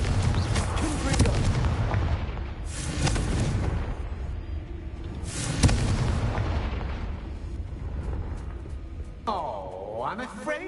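Repeated Confringo fire-blast spell explosions in the Hogwarts Legacy video game, booming bursts recurring every few seconds amid game ambience, with a sweeping whoosh near the end and a voice speaking over them.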